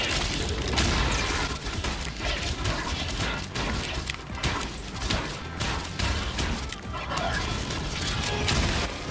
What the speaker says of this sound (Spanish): Ahí está, tres escopetazos.